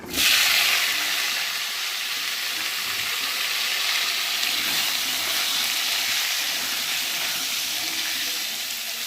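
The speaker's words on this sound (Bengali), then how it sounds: "আলুগুলোকে লাল লাল করে ভেজে নেব" Dense, steady hiss and crackle of cut potatoes frying in oil with whole garam masala, loud and close, continuing without pause throughout.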